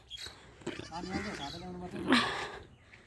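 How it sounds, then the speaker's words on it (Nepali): Several goats bleat nearby, a wavering cry rising over quieter background noise, with a sharper, louder bleat near the end. "यो बाख्राहरूले चाहिँ जग्गा नयाँ भएकोले गर्दा चाहिँ रातभरि दिनभरि नै कराइरहेको हुन्छ"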